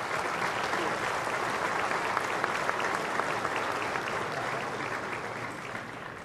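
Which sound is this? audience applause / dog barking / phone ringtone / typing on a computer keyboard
audience applause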